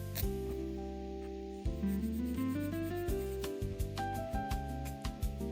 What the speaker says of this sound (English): you can hand felt them a little bit by rubbing the whole leg between your hands like that